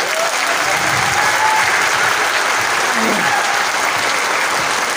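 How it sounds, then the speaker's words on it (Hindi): Loud, sustained applause from a large audience at a motivational business seminar, steady and dense clapping throughout with crowd noise beneath. "आपने जोरदार तालियां बजाइए आप"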